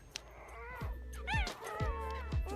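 Newborn puppies whimper and squeal faintly, with several rising, wavering cries overlapping in quick succession above a low background thump.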